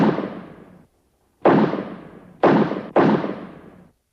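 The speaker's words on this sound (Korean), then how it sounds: "그러던 어느 날 서울의 중심가에서 울린 4발의 총성." Four gunshots ring out on a central street in 1950s Seoul, each a loud, booming crack with a long fading tail, one alone and then three in quicker succession, with no talk over them.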